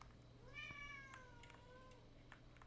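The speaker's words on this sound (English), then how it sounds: "my cat meowing" A cat meows once in a long drawn-out cry, fairly faint and distant over a low steady background hum, followed by a few soft clicks.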